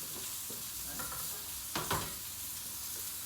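Food sizzles in a hot pan at about 350 degrees Fahrenheit, a steady crackling hiss with a couple of brief louder pops near the end and no voices over it.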